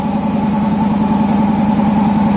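A 1972 Corvette Stingray with a 454 V8 idles close and loud, a steady deep rumble with an even pulsing beat as it comes off choke, with no talk.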